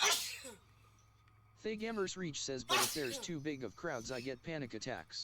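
A single sharp sneeze at the very start, close and loud, followed by a pause and then someone talking.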